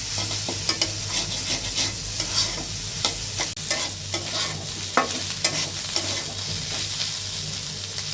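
Egg frying with onion stalks in a pan, a steady crackling sizzle with frequent scraping stirs and small pops, close and continuous.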